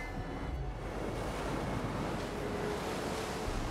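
Water washing against the shore in the video game Horizon Forbidden West, a steady surf and wind wash that holds even and full throughout with no break.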